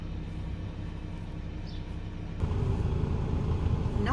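A manual car's engine runs just after starting, first a low steady rumble, then a noticeably louder, heavier drone as revs rise partway through, with no talk over it.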